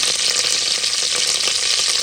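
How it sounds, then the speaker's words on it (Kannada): Tempering spices sizzling hard in hot oil for a clam dish, a dense continuous hiss close by with faint crackle throughout, no voices. "ಸ್ವಲ್ಪ ಎಣ್ಣೆ ಪಾಡ್ದೈಕ್ ಒಗ್ಗರಣೆ ಕಪ್ಪು ಪಾಡಿರು"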